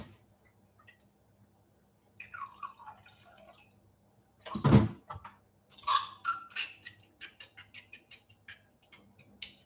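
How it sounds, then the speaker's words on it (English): Water poured into homemade salad dressing in a kitchen: a short splashy pour, then scattered light drips and small clicks, fairly quiet, with no talking. "And then some water, and we're done with the dressing."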